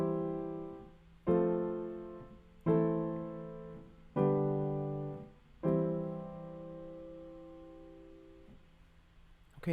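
A chord progression using inversions played on a keyboard, with four sustained chords struck one after another at a steady pace, each ringing out and fading before the next, then a final return to the home chord.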